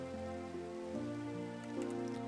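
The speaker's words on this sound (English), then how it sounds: "I guess the rain makes sense." Steady rain falls in Minecraft, a soft continuous patter under sustained tonal game music, with no talking.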